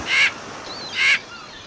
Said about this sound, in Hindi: बहुत ज्यादा कौवे हैं इस शहर में और ये शोर भी बहुत मचाते हैं